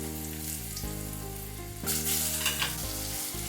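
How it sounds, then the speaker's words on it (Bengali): Ridge gourd pieces drop into hot oil already holding nigella seeds, slit green chillies and turmeric, and a loud, steady sizzle swells sharply as they land, with a faint low tonal hum underneath. "এবার আমি এতে ঝিঙে টুকরোগুলো ছেড়ে দিচ্ছি"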